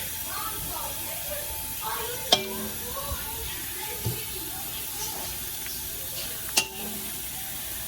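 Spaghetti being stirred and tossed with a well-seasoned sauce, soft wet sizzling and mixing sounds with a few sharp utensil clinks against the pot, faint and close.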